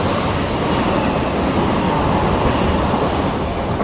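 A Class 377 electric train pulls out of a station, a loud, steady rumble and rolling wheel noise close by, filling the whole stretch with no pauses.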